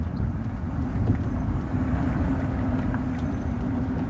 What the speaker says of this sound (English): that's the sound of the wind